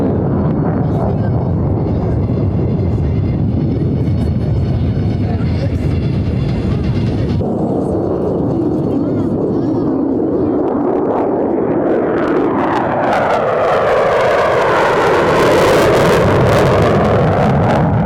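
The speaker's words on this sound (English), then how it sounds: "next on the takeoff roll, America's newest fifth-generation stealth fighters, the F-35A." A Lockheed F-35A stealth fighter roars loudly and steadily through its takeoff roll at an air force base airshow, its jet noise shifting and swelling as it passes, with a voice on the announcer's loudspeaker talking over it.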